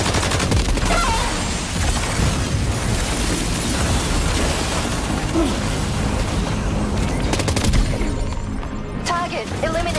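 Dense, continuous volleys of video game gunfire from Death Stranding 2, with overlapping bursts and booming blasts sustained loud throughout, under a busy mix of combat sounds.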